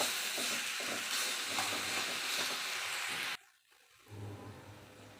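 Boiled, drained drumstick (moringa) leaves being stirred into a sizzling pan stir-fry, a steady close scraping and frying hiss that cuts out briefly, then returns quieter with a low hum.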